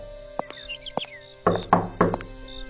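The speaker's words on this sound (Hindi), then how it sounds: "तभी दरवाजे पर खटखट की आवाज हुई" Knocks on a wooden door: a few light raps, then three louder, heavier knocks in a row, with birds chirping faintly in the background.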